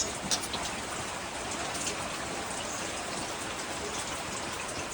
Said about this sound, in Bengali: দেখেন বৃষ্টি হচ্ছে কত সুন্দর আবহাওয়া